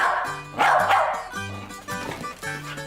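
A dog barks repeatedly at close range, a series of sharp loud woofs with short gaps between them, in a home during a dog training session.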